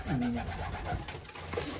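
Mirror pigeons coo softly nearby, a couple of low throaty calls in a brief moment, with no talking.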